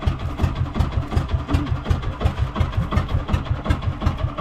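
A fishing boat's engine runs steadily and loudly close by, a low throbbing chug with an even pulsing rhythm and no voices over it.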